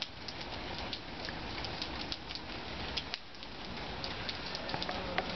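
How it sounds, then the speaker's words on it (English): Steady outdoor summer rain patters densely and evenly on surfaces, a constant close hiss of drops with scattered sharper ticks and no voices. "It's raining."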